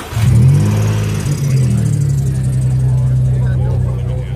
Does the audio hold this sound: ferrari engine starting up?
yes